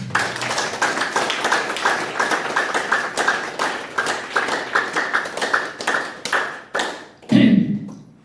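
Audience at a talk clapping in steady rhythmic unison, loud and close, the beat holding for several seconds before fading into a few scattered claps and a brief voice at the end.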